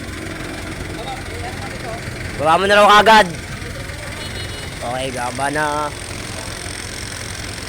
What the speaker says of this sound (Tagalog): Makina po yan ng Montero.